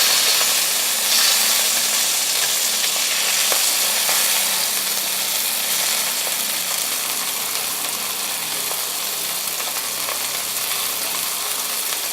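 Scallops sear in a hot frying pan with a loud, continuous sizzle and crackle that holds evenly throughout, close and unbroken, with no talking.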